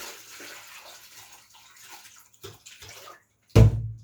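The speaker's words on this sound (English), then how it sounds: "going to throw the coconut juice" Coconut juice pours into a cooking pot for Jamaican red snapper in coconut sauce, a soft splashing trickle followed by a louder, brief gush near the end.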